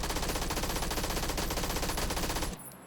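An SMG firing in the video game PUBG, heard as a rapid, steady automatic burst of closely spaced shots that stops abruptly near the end, loud and alone without talk.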